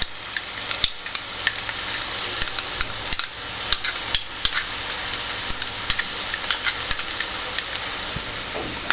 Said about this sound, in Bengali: রসুন কুচানো দিলাম, দিয়ে একটু নেড়ে দেবো।